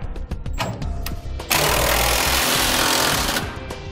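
A power tool rattles in rapid bursts while tightening 5th wheel trailer hitch bolts on a 2018 Ram 2500, then runs in a loud, continuous hammering stretch through the second half of the clip.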